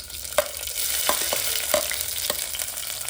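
Onions frying in oil with cumin and mustard seeds in a pan: a continuous close sizzle broken by several sharp spoon-stirring clicks and scrapes, with no voices.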